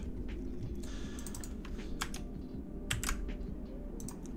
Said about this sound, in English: we want to type the user.txt